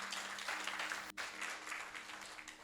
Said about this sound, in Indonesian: kita tepuk tangan untuk Tuhan kita